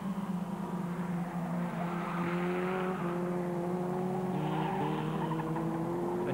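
A Formula Ford 1600 race car at the Ingliston circuit rounds a hairpin with a loud, steady engine drone and tire squeal, rising in pitch as it accelerates out of the corner.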